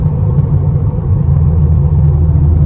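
A car rolls along a smooth road, a loud, steady low rumble of tires and engine heard from inside the cabin, with no talking.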